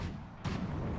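A volley of gunfire goes off on command in the video game Conqueror's Blade, a sudden loud burst after a quieter lead-in that keeps rumbling to the end.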